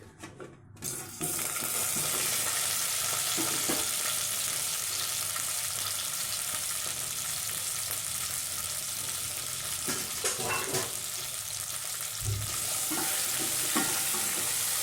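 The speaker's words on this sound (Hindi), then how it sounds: "अब हम इसमें ये अरबी को डाल देंगे।" Taro (arbi) pieces dropped into hot oil in a pan burst into a loud, continuous close-up sizzle that holds steady, with occasional stirring scrapes.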